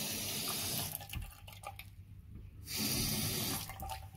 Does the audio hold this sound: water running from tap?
yes